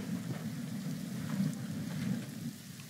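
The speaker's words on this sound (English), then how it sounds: "Rain is coming, so I need to go in the airplane." Steady rain with low rumbling thunder from the survival video game The Forest, a continuous wash of downpour filling the scene at moderate volume with no voices.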